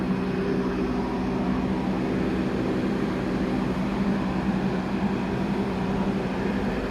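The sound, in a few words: Sembrani executive night train running, Surabaya to Jakarta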